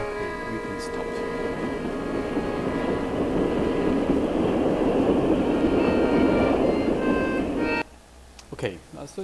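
A train passes through a Warsaw neighborhood with a loud, steady rumble and thin metallic squealing tones throughout. The sound cuts off abruptly near the end, leaving quieter background noise.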